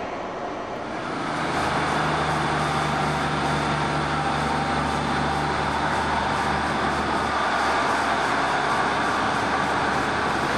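A train pulling out of old Bristol station, a loud continuous engine rumble and roar that swells over the first seconds and then holds steady, close by.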